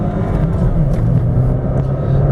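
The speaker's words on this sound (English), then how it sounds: "Here we'll do a 0 to 60 acceleration pull going up a hill" A 2015 Jeep Patriot with a 5-speed manual transmission accelerates hard uphill in a 0-60 run, its engine giving a loud, steady low drone with cabin rumble throughout.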